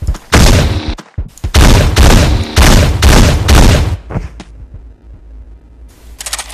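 An assault rifle fires in the top-down shooter Teleglitch: several loud, rapid bursts of close gunfire in quick succession, then a short tail of quieter rumbling ambience.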